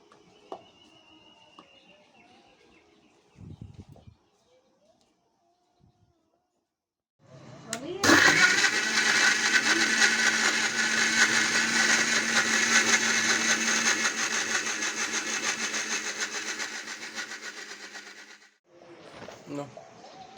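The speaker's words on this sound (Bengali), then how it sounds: "এবার কিন্তু আমি মিক্সিতে এগুলো একদম পেস্ট করে নেব।" A kitchen mixer grinder blends ripe home-grown mangoes with water into a paste, a loud, steady high-pitched whir running about ten seconds after a quiet start, then cutting off.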